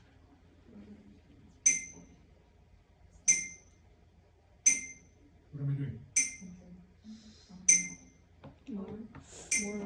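A glass rings out with bright, clear pings, struck about five times at steady intervals, each tone decaying quickly while a person talks quietly between strikes.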